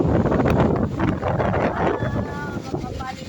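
Strong wind buffets the microphone in loud, continuous roaring gusts, with a voice talking faintly underneath.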